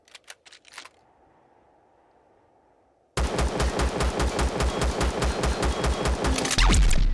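Sustained automatic gunfire in Empyrion Galactic Survival, Reforged Eden mod: a few quick shots, then a long loud, evenly spaced stream of rounds, close and unbroken, ending in a heavier blast.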